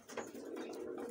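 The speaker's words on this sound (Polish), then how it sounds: "są gołębie na lotowym" Soft, low coos from young pigeons in a loft murmur close by, a short throaty burble with no talking.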